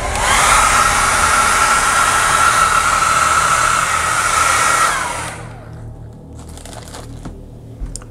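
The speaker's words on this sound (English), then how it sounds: "I'm going to hit this with my hair dryer here once" A hair dryer blows on the fresh paint of a Halloween skull-and-crossbones decoration, a loud steady whoosh that cuts off after about five seconds, leaving faint handling noises.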